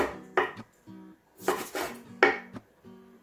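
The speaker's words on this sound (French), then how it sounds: "Je vais couper en morceaux les citrons" Knife cutting lemons into pieces on a board, a few separate chopping strikes with clinking utensil and plate sounds, close and fairly quiet with no talking.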